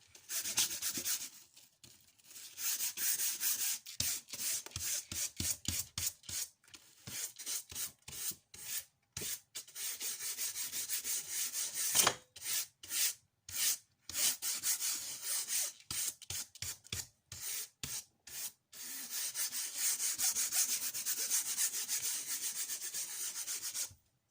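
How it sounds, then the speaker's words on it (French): A small nail brush scrubs back and forth across a freshly glued canvas, producing close, rhythmic rasping strokes in quick bursts separated by brief pauses, with no talking. "Donc là je passe ma petite brosse à ongles."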